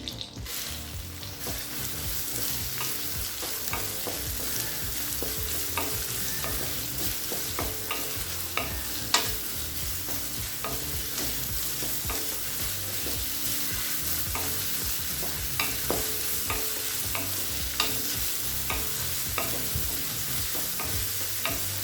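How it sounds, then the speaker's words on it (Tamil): Steady, loud sizzling and frying of chopped onions sautéing in a pan with fennel seeds and curry leaves, with occasional stirring scrapes, continuous throughout with no talking. "இப்போ வெங்காயம் நல்லா வதங்கிடுச்சுங்க"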